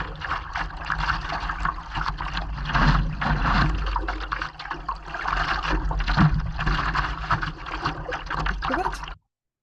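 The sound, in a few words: stand-up paddleboard paddling on the sea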